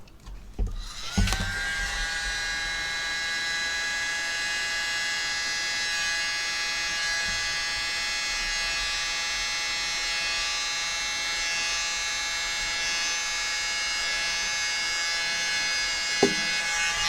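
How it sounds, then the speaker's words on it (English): A mini blower is switched on for a flip cup paint pour and runs with a close, steady high-pitched electric whir from start to finish, interrupted only by a brief knock near the end. "Mini blower."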